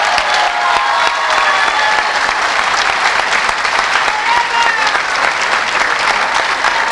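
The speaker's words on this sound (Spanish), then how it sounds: "Un aplauso para los 35 diputados" A large political audience gives loud, sustained applause for 35 deputies, a dense, even wash of clapping with faint crowd cheering and voices underneath.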